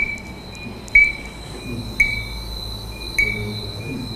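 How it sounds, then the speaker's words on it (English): A recorded frog gives a constant-pitch call, three short, clear tonal notes spaced about a second apart over a steady, faint background hiss. "I love that frog."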